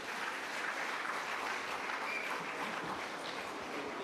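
Sustained audience applause welcoming a speaker to the stage at a medical conference on dialysis, a dense, steady wash of clapping filling the room for several seconds without any voices.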